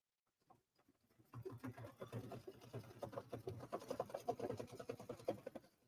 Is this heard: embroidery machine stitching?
yes